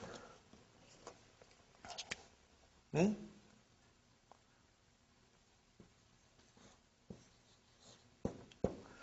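Marker or chalk strokes on a board during an Arabic grammar lesson, a series of short scratchy writing sounds with gaps between them, close and fairly quiet, with no talking.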